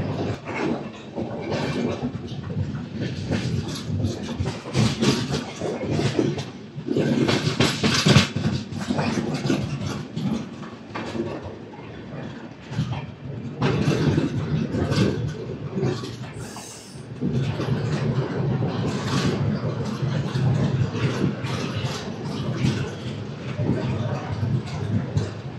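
Narayanadri Superfast Express (12734, Lingampalli–Tirupati) running at night: a steady, loud rumble of the moving train with clattering and rattling throughout, interior noise continuous, with some voices mixed in.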